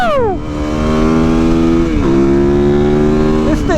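A 2019 Yamaha YZ450FX dirt bike, a dual-sport motorcycle on Shinko 705 tyres, revs hard and loud up close, its engine pitch climbing, dipping briefly at a gear change, then climbing again.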